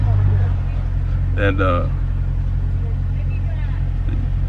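A brand new Dodge Challenger T/A 392 rumbles with a steady low engine drone throughout, while a voice speaks briefly over it.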